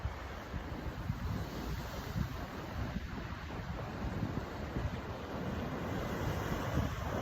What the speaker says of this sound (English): We have a little bit of waves today.